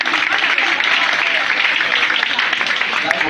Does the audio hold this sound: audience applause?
yes